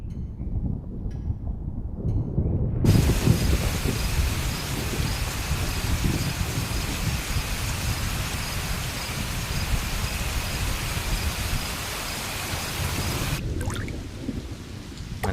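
Heavy rain pours steadily with a dense hiss, low rumbles of thunder rolling underneath throughout.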